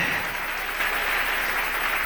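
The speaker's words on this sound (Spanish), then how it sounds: "Dele un aplauso al Rey" Congregation applauding in a church service, an even wash of clapping at moderate level with no voices, lasting about two seconds.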